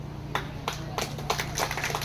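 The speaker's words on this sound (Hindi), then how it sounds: "आप लोग ताली मार रहा है," An audience claps during a political speech at a meeting in Tripura, with a handful of separate, fairly close hand claps at uneven intervals over a steady low hum.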